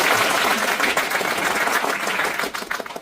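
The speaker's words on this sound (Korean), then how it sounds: "박수 한번." Loud, dense applause from a party rally crowd at a members' resolution meeting, a busy burst of clapping that stays full and then thins into scattered claps toward the end.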